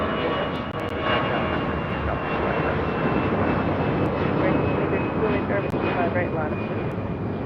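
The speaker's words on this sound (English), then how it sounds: "Starlux, the A350, now heading to the gates of Tom Bradley." A Starlux Airbus A350 taxiing toward the Tom Bradley gates at LAX at night gives a steady, continuous jet engine roar and whine, with voices in the background.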